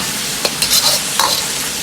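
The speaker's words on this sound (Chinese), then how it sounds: "翻炒几下，炒匀调料" Lettuce stem with soy sauce, salt, pepper and sugar tossed in a hot wok, a steady sizzle broken by a few sharp spatula scrapes and clatters, close and fairly loud with no talking.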